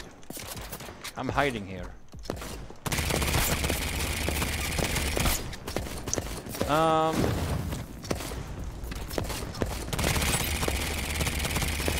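Rapid gunfire bursts from a cartoonish third-person shoot-and-loot game, with dense sustained shooting dominating most of the clip after a quieter opening, alongside game effects and someone talking over it.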